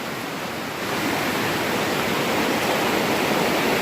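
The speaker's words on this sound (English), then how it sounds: "Beautiful, beautiful mountain river." A mountain river flows continuously, a broad, steady rushing roar close by that grows slightly louder after the first second.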